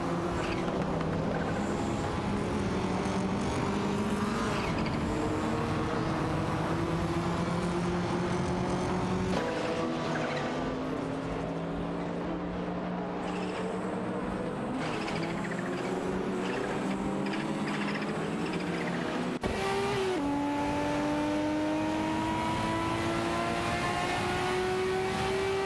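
Race cars, among them a Toyota Celica, in a racing video game drone and whine through steady engine tones that climb and drop with gear changes, several engines overlapping loudly for the whole stretch.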